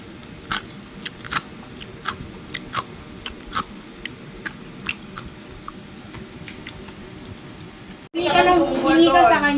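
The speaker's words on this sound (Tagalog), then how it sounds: "Tikman natin kung malutong ba talaga." Someone bites into crispy air-fried pork belly liempo, producing a string of sharp, close crunches and chewing crackles at an irregular pace, then a voice starts talking at the end.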